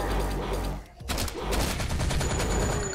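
Enemy gunfire in the shooter game HYPERVIOLENT, a dense rapid burst of shots, a brief pause, then another sustained volley of close, loud automatic fire.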